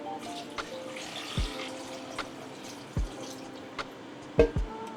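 Water being poured into a cooking pot for Ghanaian palava sauce, with a few soft splashes and drips at irregular intervals against quiet kitchen background.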